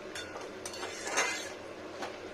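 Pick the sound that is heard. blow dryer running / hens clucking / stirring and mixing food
stirring and mixing food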